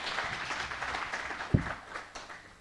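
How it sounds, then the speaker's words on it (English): An audience at a women's investment learning event applauds for Catherine: a soft, steady patter of many hands clapping, with one sharper clap standing out midway. "A round of applause for Catherine."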